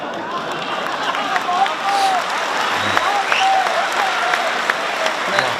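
Crowd applause at a public speech, a steady spread of clapping with scattered sharp claps and murmuring, and voices calling out over it.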